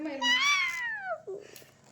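A young child imitates a cat's meow with one drawn-out, rising then falling mew, followed by a short softer vocal tail.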